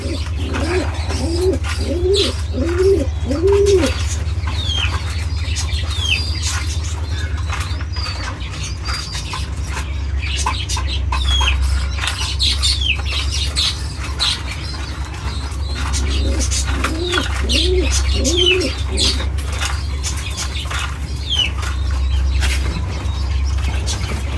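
Pigeons on a farm coo in rolling, repeated phrases, with two clear bursts of cooing near the start and again later over a constant low mechanical hum and scattered clicks and wing sounds.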